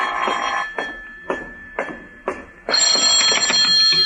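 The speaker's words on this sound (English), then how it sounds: "This is the telephone company calling, Mr. Marlowe" In a 1951 Philip Marlowe radio drama, a telephone bell rings in repeated short bursts, steady and fairly loud, with the ringing growing brighter and more continuous toward the end.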